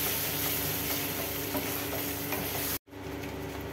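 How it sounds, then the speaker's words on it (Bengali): Mixed vegetables frying with sour yogurt and a little water in a pan, a dense, loud continuous sizzle and bubbling, cut off abruptly near the end before resuming more quietly. "একটুখানি অল্প জল দিয়ে টক দইয়ের সঙ্গে ভালো করে ভাজা করা হচ্ছে।"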